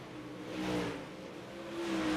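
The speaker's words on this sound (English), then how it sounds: "Drivers out on the racetrack getting hot laps on the board here." Super Late Model race cars run hot laps at Volusia Speedway. A distant engine drones and swells twice as the cars come past, faint and steady, with no voices.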